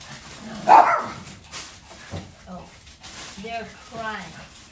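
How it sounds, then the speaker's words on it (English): Excited pet dogs bark and whimper in a home kitchen while being offered pieces of vegetable as a treat; one loud close bark comes first, followed by softer yips and whines, with a voice talking over them. "They're crying, barking because they are so excited for me to give them some dessert"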